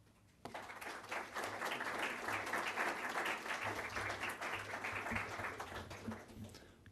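A lecture audience applauds to welcome a speaker at BYU: steady, full clapping from a large crowd that starts abruptly and holds for about six seconds before tapering off.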